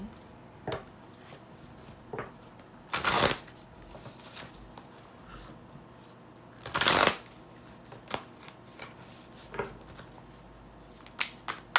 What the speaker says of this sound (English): let's go ahead and pull some cards from the Spirit Animal Oracle deck